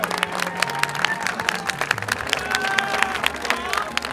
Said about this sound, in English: I want to have a huge round of applause and thank you to all of Grand Prairie ISD